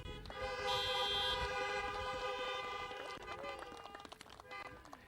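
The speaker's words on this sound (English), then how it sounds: "A little more honking?" Many car horns honk together at an outdoor college commencement ceremony, a loud overlapping chorus of sustained toots from several vehicles that thins into scattered shorter blasts.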